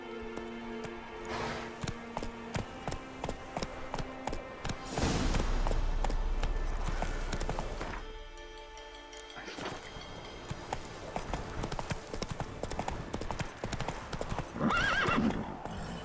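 Roach the horse in The Witcher 3 gallops with rapid, rhythmic hoof clip-clops, one whinny in the middle, and brief spoken words over the hoofbeats.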